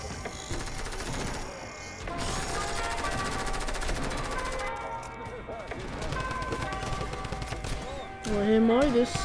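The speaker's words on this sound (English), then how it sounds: "Shooting right near me." Nearby gunfire in Fortnite, including drum-gun style rapid bursts: dense rattling automatic fire runs through most of the stretch over game sounds and music, with a player talking over it.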